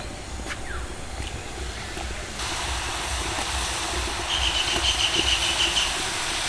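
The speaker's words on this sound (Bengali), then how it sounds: "এবার নিমকি যে সেপ দিয়ে রেখেছি এগুলোকে তেলের মধ্যে ছাড়বো" Nimki dough shapes frying in hot white oil in a kadai, a steady broadband hiss and sizzle that rises a step partway through and continues alone without talk.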